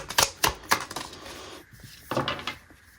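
Tarot cards being shuffled, a few quick crisp riffling bursts with short pauses between them, close and fairly clear with no talk over them.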